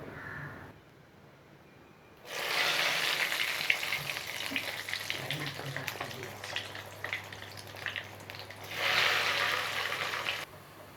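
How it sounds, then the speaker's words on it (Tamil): Bread egg rolls deep-frying in hot oil give a steady, loud sizzle that swells after a quiet start, eases slightly, then surges again near the end before cutting off. "அடுத்தடுத்த பாலை இதே மாதிரி நான் போட்டு பொரிச்சு எடுத்துக்க போகிறேன்"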